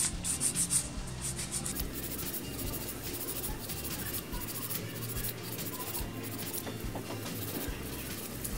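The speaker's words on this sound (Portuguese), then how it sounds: "Já aproveito e já vou lixando bem as laterais para essa unha ir fechando." A gel nail being filed along its sides with a nail file during a maintenance fill: a steady, close, dry scraping and rubbing texture that runs continuously without a break and without talk.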